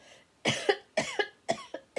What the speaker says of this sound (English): you got a little bit of a cough.